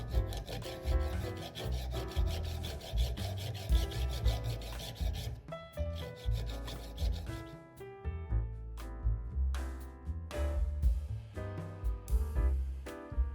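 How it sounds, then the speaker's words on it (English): A hand file rasps against a san-mai steel petty knife blade in repeated strokes, close and clear, with a ringing metallic tone and irregular pauses between passes. "And then I have to finish off with a file."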